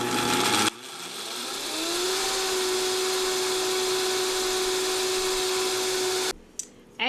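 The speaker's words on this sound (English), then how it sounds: "And then blend it nice and smooth." A kitchen blender whirs up to speed and runs steadily for about five seconds, blending a pear crisp mixture with water, before cutting off abruptly.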